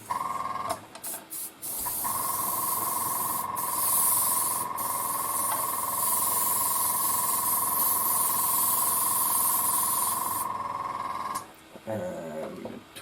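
An airbrush sprays onto a Trumpeter E-50 tank scale model with its turret removed, a steady hiss with a faint tone lasting about nine seconds, bracketed by brief handling clicks.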